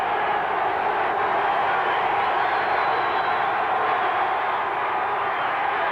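A 1985 Redskins at Steelers football stadium crowd keeps up a steady, dense roar of cheering, with a commentator speaking over the din.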